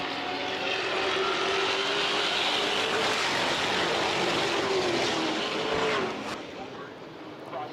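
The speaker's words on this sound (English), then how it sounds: "always love that shot, the speed camera, get to hear the roar of the vehicles" Race cars at Delaware Speedway roar past in a sustained, loud engine wash that holds steady and then eases off near the end as the field moves away.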